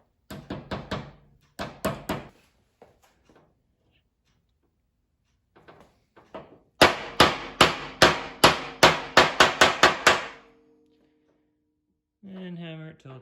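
A few sharp hammer taps, a pause, then a fast run of about a dozen loud, evenly spaced hammer blows pressing a seal into place on a 1986 K10 front driveshaft, followed by a short tonal hum.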